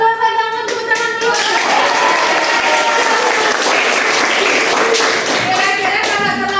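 A classroom of students applauds together, a steady dense burst of clapping lasting throughout, fairly loud and close, with a teacher's voice briefly heard over it.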